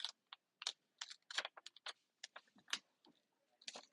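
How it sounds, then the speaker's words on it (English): An IOD decor transfer being peeled off its backing sheet and rubbed down, giving a run of faint, quick crackling and rubbing bursts in uneven rhythm, close and quiet with no talking. "rubbing as I go just to make sure it's all releasing nice"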